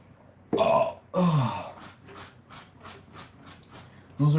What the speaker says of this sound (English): Those are hunger burps.